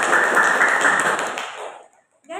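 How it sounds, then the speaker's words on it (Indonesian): Applause for Pak Ridwan, a teacher and coach at a teacher-training session, a dense burst of clapping from a group that fades out over about two seconds before a voice resumes. "Tepuk tangan dulu dong untuk Pak"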